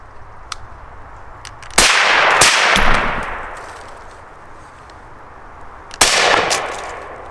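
Two loud, sharp impacts a few seconds apart as 5.56 green tip rifle rounds strike 3A body armor, each a cracking bang that rings out with a metallic clang and a slowly fading tail.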